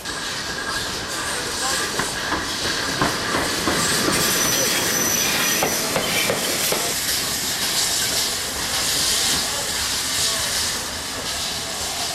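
Heritage railway carriages on the Gloucester & Warwickshire Railway roll past close by, a steady loud clatter of wheels and rail joints with intermittent metallic squeals throughout.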